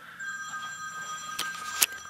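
A telephone rings with a steady high electronic tone running throughout, faint against a quiet indoor background, with a couple of short clicks near the end.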